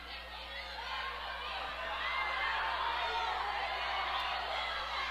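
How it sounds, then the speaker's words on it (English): Spectators at a high school wrestling dual in Iowa murmur and call out restlessly, a steady crowd din with scattered shouts, heard from up on a balcony and slowly building louder. "Crowd getting a little restless as we near the 10-second mark here left to go in period number 2"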